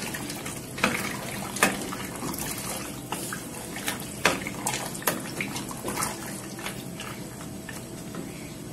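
Hot water poured over pasta in a pressure cooker, a steady splashing pour running throughout with a few sharper sloshes and clinks, close and moderately loud, with no talking.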